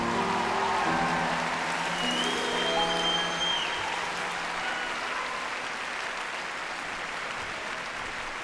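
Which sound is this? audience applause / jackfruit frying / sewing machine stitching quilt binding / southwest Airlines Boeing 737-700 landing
audience applause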